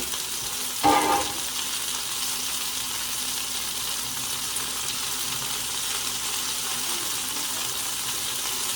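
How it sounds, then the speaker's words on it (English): Hands are washed under a running kitchen tap at a sink, a steady close rush of water after a brief louder splash near the start, with no talking. "Let me wash my hands."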